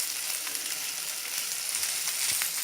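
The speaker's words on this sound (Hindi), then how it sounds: "अब साथ ही हम इसमें डालेंगे शिमला मिर्च, मिक्स कर लेंगे इसे भी और हाई फ्लेम पे ही हमें इसे सौते कर लेना है।" Bell pepper sautés in a pan over a high flame with a loud, continuous sizzle and faint stirring scrapes, close by and without talk.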